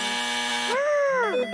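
A buzzing alert tone played through a Corsair HS80 RGB USB wired gaming headset with Dolby 7.1 spatial sound, a steady buzz that bends into a rising and falling sweep before settling again, clear and close with no talk.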